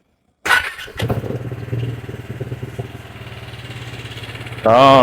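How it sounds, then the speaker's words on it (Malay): A Wmoto RT3 motorcycle's Piaggio-built engine cranks and fires with a sharp burst, then settles into a loud, steady, throbbing idle close by, with a brief rising voice-like sound near the end. "Bunyi enjin DNA Piaggio ni memang agak keras"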